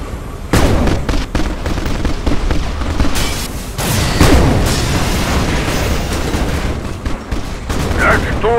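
Heavy fire pounds a base in the Command & Conquer video game: dense bursts of gunfire, booming impacts and explosions overlap in a loud, relentless barrage with no break.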